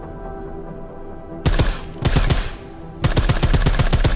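Suppressed gunfire in the Deus Ex: Mankind Divided video game: after a quiet background hum, bursts of rapid, loud shots start, break off and then return as a sustained volley of dense repeating reports.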